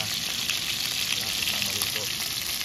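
Food sizzles steadily in a pan over a camp stove at a campsite during breakfast, with eggs and longganisa sausage being cooked; a continuous close crackle and hiss with no break.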